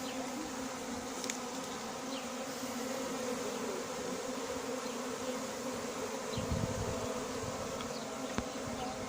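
A swarm of honeybees flies everywhere after its branch is shaken during a swarm collection in L'Haÿ-les-Roses, producing a dense, continuous buzzing drone with occasional nearer passes and soft rustling.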